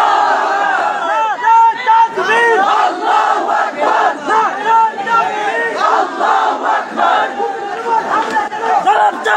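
Large crowd at an outdoor rally chanting in unison in answer to a takbir call, loud rhythmic repeated shouts rising and falling across the whole stretch.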